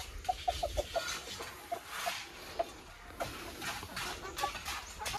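Colombian Light Brahma chickens clucking on a farm, a quick run of short, faint clucks early on followed by scattered softer calls over low background noise.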